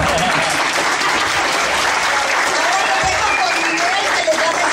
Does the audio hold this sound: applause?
yes